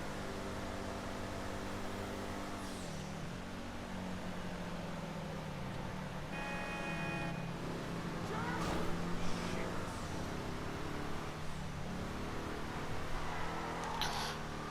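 A Benefactor SM722 in GTA 5 Online drives along with a steady, humming engine drone that rises and falls in pitch as it shifts and accelerates, fairly quiet and continuous.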